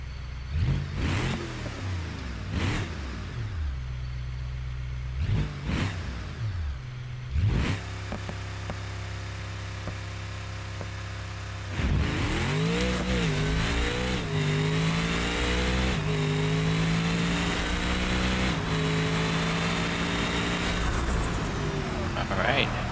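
In a BeamNG drag test, a stick-shift car carrying a 500-shot nitrous kit bangs against its two-step limiter in repeated revving bursts, then launches into a long, loud, rising pull through the gears, with someone talking over it.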